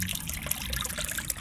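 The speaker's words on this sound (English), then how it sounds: "there's our water coming out" Water splashing steadily from a homemade Africa-themed garden fountain beside a small hut, a continuous close trickle and patter with no voices.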